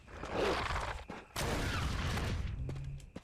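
Grenade launcher fire in the Resident Evil Remake, two loud blasts with a burst near the start and a second heavier explosion that sustains, dense and close, game audio without speech.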